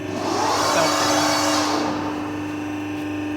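The motor of a CNC press brake runs steadily during an overrun test, giving a loud, continuous whirring hum with a steady tonal whine. It eases slightly partway through.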